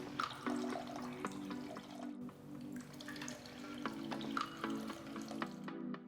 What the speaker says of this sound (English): Take the muslin cloth and squeeze out all that beautiful thick coconut milk.